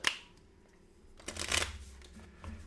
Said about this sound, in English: as I am shuffling his cards